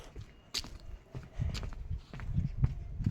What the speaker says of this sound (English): I heard the footsteps.